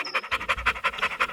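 A dog pants in quick, steady breaths, about eight rhythmic huffs in just over a second, close and fairly loud with no talking.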